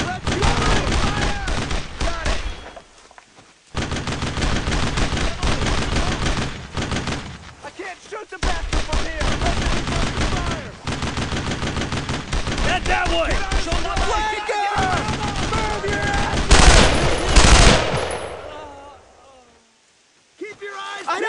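Gunfire in the World War II video game Brothers in Arms: Road to Hill 30, loud dense rifle and machine-gun volleys crackling almost continuously under shouted soldier voices, with brief lulls between bursts.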